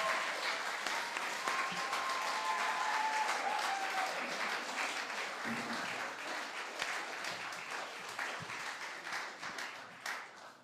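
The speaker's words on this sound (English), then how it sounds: "come out so we can give all of our music scholars a massive round of applause" School audience at a headmaster's music concert applauding music scholars, a sustained round of clapping that starts full and gradually thins toward the end, with faint voices mixed in.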